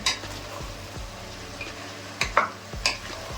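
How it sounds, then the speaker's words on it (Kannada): A spoon stirs chopped tomatoes and mixed vegetables into a vegetable curry in a pan, a soft sizzle underneath with repeated scraping strokes and several sharper metal clinks toward the end. "ತರಕಾರಿ ಜೊತೆ ಚೆನ್ನಾಗಿ ಮಿಕ್ಸ್ ಮಾಡ್ಕೊಳ್ಳೋಣ."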